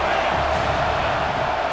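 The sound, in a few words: home crowd cheering in EA Sports College Football 26 video game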